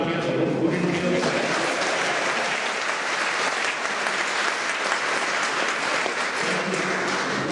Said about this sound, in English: Is that clapping for me or him?